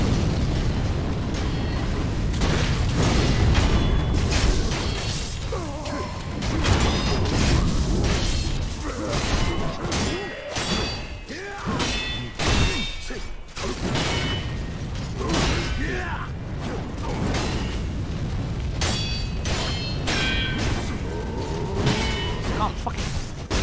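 Enemy cannon fire in Sekiro erupts in repeated heavy booms amid continuous clashing combat noise, loud and dense throughout, with occasional talking over it.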